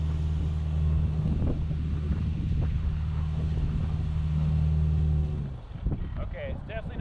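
A Subaru with a CVT strains up a steep off-road hill, a steady low engine drone with wind buffeting for about five seconds before the engine note drops away, with talk over it.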